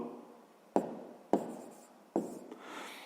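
Pen strokes on paper while working a sixth-grade math exercise: three distinct scratchy taps spaced about a second apart, close and quiet, each followed by a brief trailing scrape.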